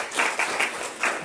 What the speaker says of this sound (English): so let's give everybody a clap.